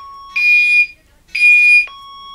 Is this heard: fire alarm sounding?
yes